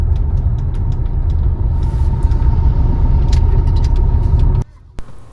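A car engine running while driving in second gear during a driving lesson, a loud steady low rumble with a faint whine above it that cuts off sharply near the end.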